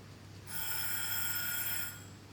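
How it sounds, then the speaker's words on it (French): A telephone bell rings in one sustained, bright electric trill lasting about a second and a half, fairly loud over a quiet background, with no talk. "il y a une sonnerie"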